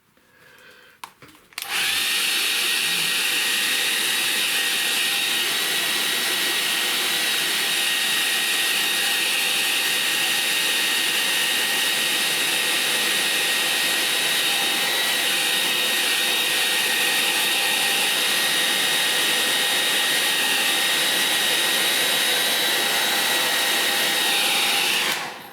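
A hair dryer switching on and blowing continuously to dry a watercolour painting, a loud, steady whirring hiss with a high whine that runs for over twenty seconds before cutting off.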